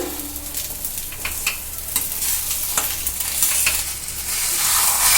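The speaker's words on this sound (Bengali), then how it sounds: "ওই যে বাটা মশলাটা আমি কিন্তু আলুর সঙ্গে খুব সুন্দর করে কষে কষে মিশিয়ে নিচ্ছি" Spice paste and potatoes fry in oil and get stirred hard for an egg devil filling, loud close sizzling broken by repeated scraping strokes of a spatula against the pan.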